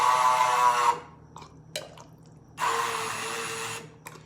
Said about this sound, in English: then we're going to put the immersion blender in